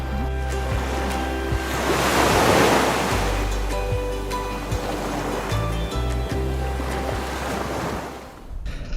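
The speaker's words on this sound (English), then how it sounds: "There's a pretty fresh breeze going on" Sea waves wash and surge steadily around a Seawind 1370 catamaran under sail, with a fresh breeze buffeting the microphone and a low hull rumble running throughout.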